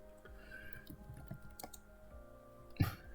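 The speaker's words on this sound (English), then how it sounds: "Nice typing." Keys clatter on a computer keyboard in soft, irregular bursts of clicks, fairly quiet and close, with one louder thump near the end.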